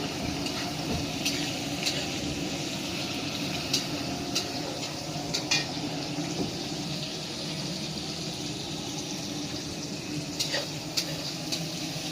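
Meat sizzling and frying in a pan on a home stove, a steady crackling hiss with occasional sharper pops and stirring clicks, moderately close, no talking.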